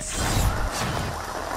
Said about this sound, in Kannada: ಮಾರ್ಕೆಟ್ನಲ್ಲೂ ಮಳೆ.